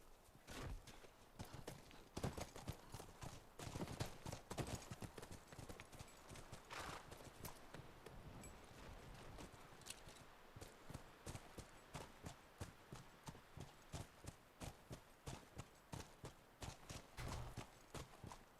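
Horse hooves clip-clopping steadily in The Last of Us video game, a rhythmic run of hoofbeats that stays fairly close and prominent throughout, with no talk over it.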